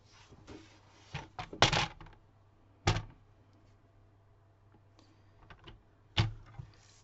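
Cardstock being cut for a stamped Golden Greenery card, giving a few soft, close scraping and thunking strokes with quiet gaps between them.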